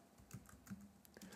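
Soft typing on a computer keyboard as a browser search is entered: several light, irregular key clicks over about a second, faint and close with no talk.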